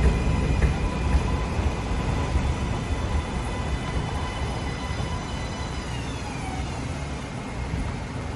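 A New York subway 4 train pulls into 138th Street–Grand Concourse station with a loud, steady rumble and screeching rails, a high whine fading as it slows.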